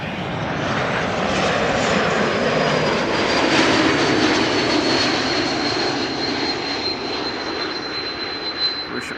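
An Airbus A220 airliner passes at Amsterdam Schiphol with a loud, sustained jet roar and a thin high engine whine, swelling toward the middle and then easing slightly as it moves on.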